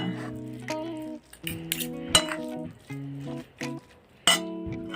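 Stirring food in a pot at home while preparing dinner, with clinks and scrapes of a utensil against the pot, in short irregular bursts between quiet gaps.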